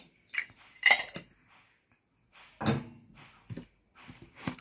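A spoon scoops Kashmiri chilli powder for a fresh Totapuri mango pickle, giving a few sharp metallic clinks and taps separated by quiet gaps, close and moderately loud.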